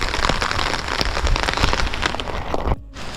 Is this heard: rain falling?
yes